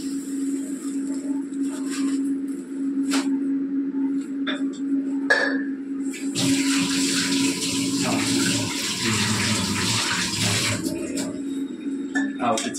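Cold water is poured into a vessel while making pana drink in an office in Bhubaneswar, a loud close rushing gush lasting several seconds over a steady background hum, with faint clinks before it.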